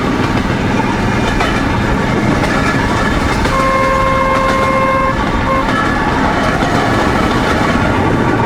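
A motor draisine runs along a narrow-gauge railway, a loud continuous rumbling ride with rattling wheels and engine noise, and a steady tonal squeal that rises partway through.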